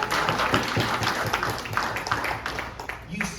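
An audience at a California Libertarian Party presidential debate claps in a brief, dense burst of applause that fades away over a few seconds, with voices mixed in.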